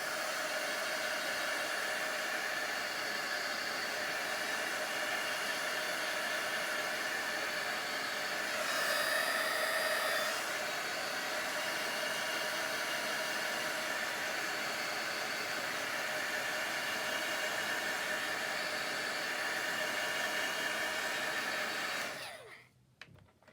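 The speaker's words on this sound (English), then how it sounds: "now I'm going to hit that again with the heat gun" A heat gun blows hot air in one loud, steady whoosh lasting over twenty seconds, briefly rising midway, then cutting off at the end.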